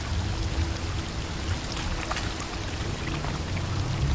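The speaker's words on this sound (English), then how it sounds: "A waterfall flowing upwards." A waterfall flows upward in a video game, a steady rushing, pouring wash of water that holds at an even level throughout.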